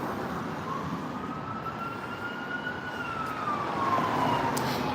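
An emergency vehicle siren wails steadily on a downtown Calgary street, its rising and falling tone drawing nearer and growing louder over continuous traffic and city rumble.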